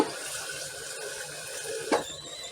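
Water poured into empty tomato sauce cans in a kitchen, a steady splashing stream running for a couple of seconds with a brief louder slosh near the end, no talk.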